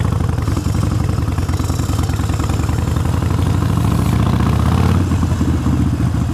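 A Harley-Davidson motorcycle engine idles loudly and close by with a deep, steady, lumpy rumble and a slight lift in revs near the end.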